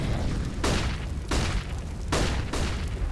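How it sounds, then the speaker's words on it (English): Flashbang grenades in a CS:GO match, several going off one after another in a loud, busy firefight, each a sharp bright pop standing out over a constant roar of gameplay. "There's so many flashbangs being thrown out right now. You can hear them all starting to pop"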